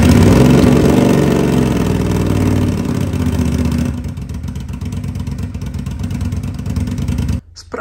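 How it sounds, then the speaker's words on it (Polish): A motorcycle engine idles and runs steadily up close, a loud continuous rumble with clattering mechanical texture throughout. "Odpal teraz motocykl i daj mu popracować przez chwilę."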